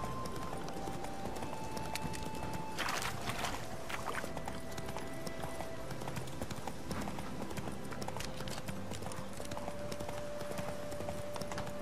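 Horse hooves clip-clop at a steady trot in The Witcher 3: Hearts of Stone, continuous and close throughout over a dense ambient game soundscape with brief tonal cues.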